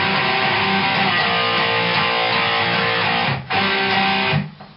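A power chord riff is strummed on electric guitar, sustained chords with a short break near the end before the last chord fades out; no one speaks.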